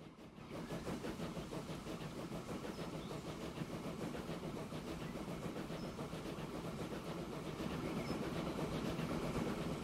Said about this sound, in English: And that just leaves us with this train